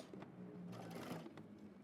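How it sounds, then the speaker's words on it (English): A sewing machine stitches through all layers of a jacket seam at a 5/8-inch allowance, a steady mechanical whir with rapid needle clatter running continuously and close by. "I'm gonna sew through all layers"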